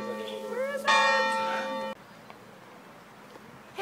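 A church bell in a French bell tower rings out loud and close, its rich harmonic strike sustaining for about a second before cutting off, leaving quiet outdoor ambience.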